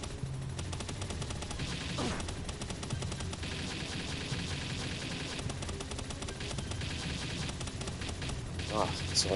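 Rapid Gatling gun fire in Palworld, a dense continuous rattle of shots running throughout with a louder burst near the end, mixed with game sounds and people talking over it.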